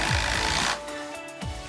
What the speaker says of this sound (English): putting in these bugle screws.